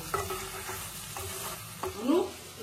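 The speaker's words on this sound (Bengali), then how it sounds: "এবার আমি উচ্ছে আর বড়ি দিয়ে দেব। তারপরে মিনিট খানেকের মতো একটু নাড়াচাড়া করে নেব।" Bitter gourd and bori are stirred in a frying pan, a close steady sizzle broken by a few scraping strokes of the spatula and a louder swish near the end.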